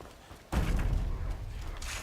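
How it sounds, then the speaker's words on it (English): In Onimusha: Way of the Sword, enemies batter a door with a single heavy thud, followed by a rumbling, noisy wash of impacts and commotion. "they're trying to break down a door?"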